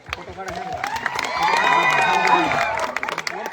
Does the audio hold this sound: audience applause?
yes